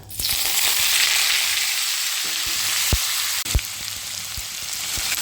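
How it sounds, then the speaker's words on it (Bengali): Potatoes fry in hot oil with tempered chillies for a sesame-and-poppy-seed potato dish, giving a loud, steady sizzling hiss throughout, punctuated by a few sharp pops and spatter clicks. "আলুটা একটু কালার ধরে ভেজে নিতে হবে"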